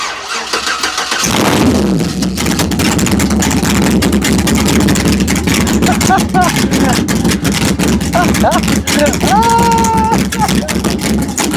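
LS V8 swapped into a Chevy Colorado ZR2 cranks and fires after a moment of quiet, then settles into a loud, lumpy rumbling idle; brief voices and electronic beeps come through over the engine.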